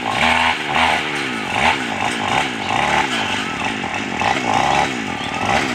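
A loud, steady motor drone of a brush cutter cutting through wood, revving and dipping in pulses, with voices faintly mixed in.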